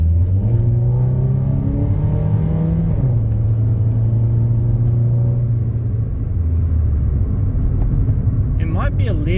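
Nissan Pulsar N14 with a big modified intake, the engine droning and revving through gear changes from inside the car, a steady loud rumble with someone talking over it.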